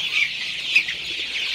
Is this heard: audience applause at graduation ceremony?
no